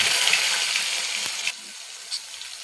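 Hot oil sizzling as green chilli, whole cumin and tomato fry in a pan, a bright crackling hiss that is loud at first and then settles lower, with a few faint clicks.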